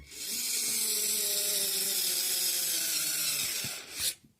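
A compact cordless two-in-one screwdriver and engraver drives a size 25 wood screw, its motor whirring steadily and close for about four seconds before a short rising burst as the screw seats, with no talking.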